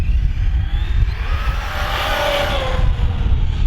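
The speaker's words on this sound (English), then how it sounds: "Little bonus footage here, just running the car" A Team Magic E5HX Plus RC monster truck on a 3S battery runs up and down on flat ground, its electric motor giving a steady, loud, continuous whine and rumble throughout.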